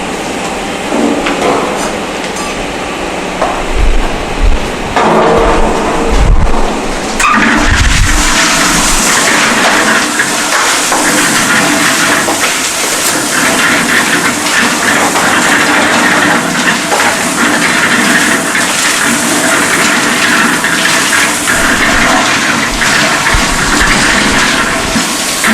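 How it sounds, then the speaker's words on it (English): A concrete mixer drum churns coarse and fine aggregate, giving a loud, steady, continuous rumble and rattle of stones tumbling throughout, with a few heavier thuds near the start. "we are going to add the coarse aggregate to the concrete mixer"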